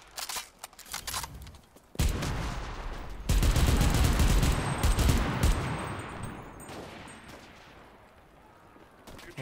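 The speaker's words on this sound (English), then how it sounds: "Oh my gosh, the machine gun." Machine gun fire in the war video game Enlisted, heavy sustained bursts and a dense roar of shooting and explosions after a few sharper isolated shots, loud and close.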